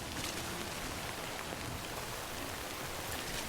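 Steady timefall rain from the video game Death Stranding, a dense, even hiss of falling drops that holds constant throughout with no talking over it.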